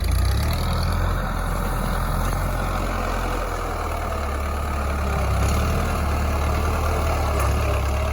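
Kubota L4708 tractor engine running steadily while plowing a rice field with a disc plow, a continuous low, heavy rumble at close range with no speech.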